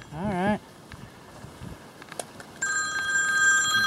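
Telephone ring at a new-construction home site in South Dallas: a single electronic ringtone burst starts near the middle and holds steady to the end, loud over faint outdoor background, preceded by a brief warbling tone.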